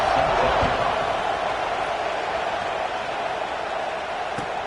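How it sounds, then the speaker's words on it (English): A stadium crowd in the College Football 26 video game buzzes after a score, a steady loud roar of cheering that fills the scene without letup. "this crowd is buzzing after that last score"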